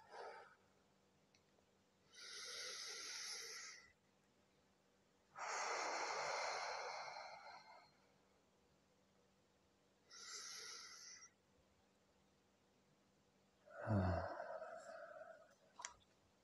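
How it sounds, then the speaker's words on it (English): Slow, deep breathing: several long, soft inhales and exhales spaced a few seconds apart, close and quiet against a near-silent background, with a small click near the end. "take 3 nice long deep breaths, inhaling through the nose. Slowly exhaling through the mouth."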